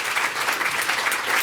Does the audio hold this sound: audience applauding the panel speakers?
yes